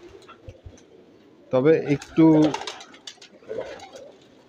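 Pigeons coo faintly in a loft, with soft low calls running under a man's nearby speech.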